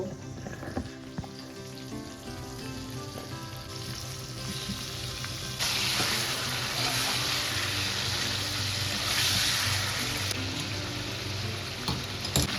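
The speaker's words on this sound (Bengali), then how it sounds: "তো এখানে মাংসটা ভাজা হচ্ছে" Meat fries in a kadai over a medium gas flame, a steady close sizzle that swells louder partway through, with faint clinks of stirring and no talk.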